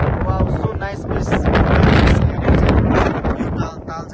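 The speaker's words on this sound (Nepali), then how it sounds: "यहाँनिर चाहिँ एकदम खतरा हावा चलिरहेछ" Strong wind blowing at Dhumba lake near Jomsom in Mustang, loud buffeting gusts battering the microphone throughout, with faint voices underneath.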